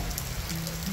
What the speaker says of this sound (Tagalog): tapos ngayon medyo maulan-ulan na kahit pa paano